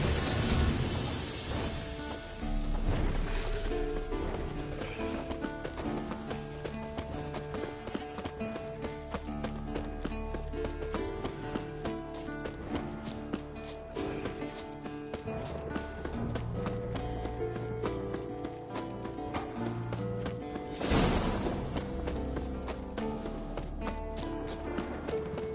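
Steady clip-clop of horse hooves in The Witcher 3, a continuous trotting rhythm that stays fairly close throughout, with a sharper burst near the end.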